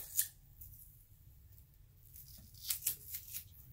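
Scissors snip through a piece of tape in a quiet room: a faint, crisp cut near the start, then a small cluster of short snips a couple of seconds later.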